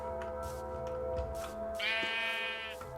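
A sheep in the video game Minecraft lets out a single quivering bleat lasting under a second, fairly quiet over soft background game ambience.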